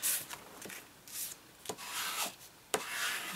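A bone folder is rubbed over scored card for a slider pop-up Christmas card, giving several soft, dry scraping strokes up close and quiet, no voices.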